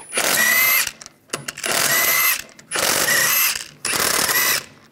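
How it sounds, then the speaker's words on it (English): A ratchet with a 17 mm socket loosening the wheel lug bolts on a 1999-2005 Volkswagen Jetta, four loud, close bursts of rapid clicking separated by short pauses. "I'm gonna remove the wheel, use a 17 millimeter socket, take the lug bolts out."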